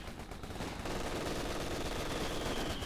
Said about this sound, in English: I've got a machine gun actually flanking these two mortar teams